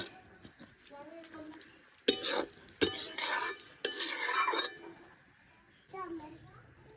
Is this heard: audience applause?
no